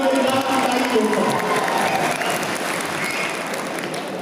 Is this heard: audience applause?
yes